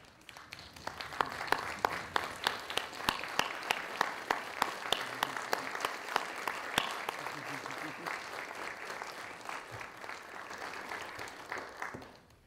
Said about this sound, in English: giving them the round of applause that you know they so richly deserve